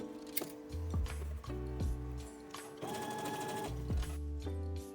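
A domestic sewing machine stitches a dress seam along the edge with a 5/8-inch seam allowance, running in several short bursts of rapid mechanical whirring separated by brief pauses, close and clear with no talking.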